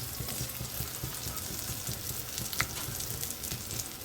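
Cauliflower pieces fry in hot oil in a home kitchen, giving a dense, steady close-up sizzle with fine bubbling crackle and an occasional soft clink, heard alone without voices.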